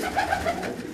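A high-flying pure Aseel pigeon perched on a person's arm coos in a few soft, close, rhythmic bursts that run through the whole short moment.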